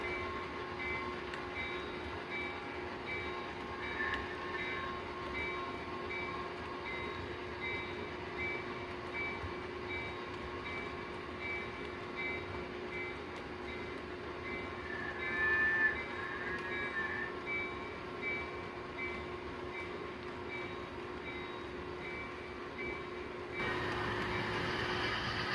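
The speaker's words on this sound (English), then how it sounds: "As our train is now headed back to the staging yard, which is off layout" Model railroad train running along a layout, a faint steady hum and rolling drone of the small motor and wheels with a constant whine, continuous and quiet throughout with no talk.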